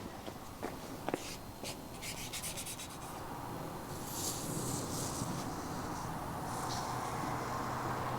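Squeegee rubbing a decal onto a Vespa Sprint scooter body, a steady close scraping rub with a few brief strokes early, then continuous smooth friction.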